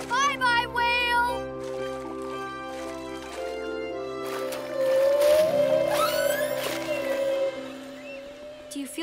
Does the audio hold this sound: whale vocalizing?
yes